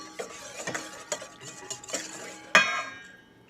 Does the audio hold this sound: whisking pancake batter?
yes